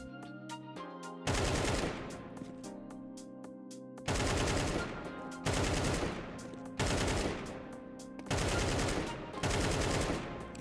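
Automatic rifle fire from the video game CS2 comes in several loud, rapid bursts of closely spaced shots, separated by brief pauses filled with a low ambient hum.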